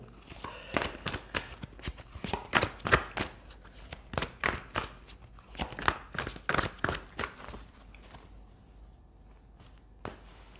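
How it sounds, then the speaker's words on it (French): A deck of tarot cards being shuffled close up, a rapid run of crisp riffling flicks and slaps that thins out and stops near the end, with no talking. "Allez, on va prendre d'autres cartes du tarot."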